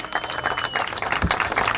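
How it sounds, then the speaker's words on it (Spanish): Audience at a boxing weigh-in for Confesor vs Cardoza clapping for a world champion fighter, a dense patter of handclaps throughout, moderately loud, with scattered voices. "El aplauso para Abanite."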